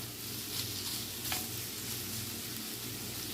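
Boiled, slightly overcooked potatoes frying in a pan for breakfast home fries, a steady close sizzle with occasional soft stirring scrapes and no voices.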